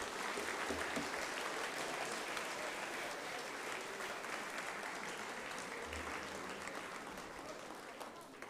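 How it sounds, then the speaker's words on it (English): A room full of guests at an alumni induction brunch gives a long, steady round of applause, dense and even for several seconds before gradually thinning out at the end. "Give them a big round of applause."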